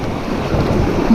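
A river rafting boat rides whitewater, a brief close rush of churning water and wind buffeting the microphone, with no voices.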